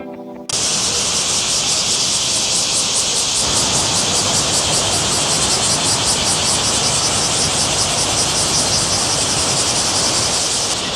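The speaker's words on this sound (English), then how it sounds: "It's the cicadas and they're buzzing and buzzing and buzzing." Cicadas drone continuously in a Kyoto summer, a dense, loud, unbroken buzzing with a fast pulsing shimmer that holds steady throughout, with no voices.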